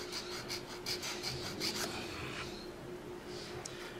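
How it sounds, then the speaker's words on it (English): Hand files work along the grip of a Victorinox Ranger knife, making soft repeated rasping and rubbing strokes up close, busier at first and then quieter and sparser. "we are still sanding away here with the files, kind of just smoothing this out a little bit"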